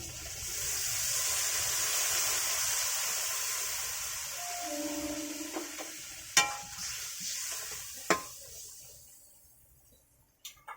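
Chopped onion hitting a hot pan, settling into a steady moderate sizzle with a few sharp clinks and knocks from the pan and utensil near the end.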